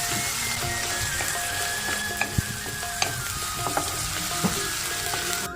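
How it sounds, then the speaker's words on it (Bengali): Onion, garlic, ginger and cumin paste frying in oil with a dense, loud, continuous sizzle and crackle, broken by a few sharp clicks of a spoon stirring the pan. "এখন তেলের ভিতরে দিয়ে দিচ্ছি পেঁয়াজ বাটা এক টেবিল চামচ রসুন বাটা এক টেবিল চামচ আদা এবং জিরা বাটা এক টেবিল চামচ"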